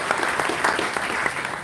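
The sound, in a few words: audience applause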